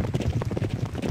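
Rapid, rhythmic hoofbeats of a pack of racehorses galloping in a Derby Owners Club arcade video game race, a steady loud drumming clatter throughout.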